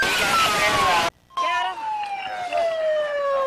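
A siren wails in a long, steady tone that slides slowly downward, heard loud through a noisy recording that cuts out briefly, with faint background sounds underneath.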